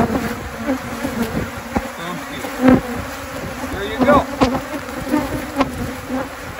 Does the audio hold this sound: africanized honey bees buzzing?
yes